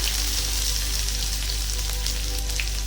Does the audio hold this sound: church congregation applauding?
no